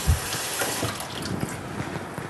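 Water pours into a cooking pot while a Bitlis-style vegetable stew with green beans is prepared, a steady close splashing stream with a brief louder burst at the start.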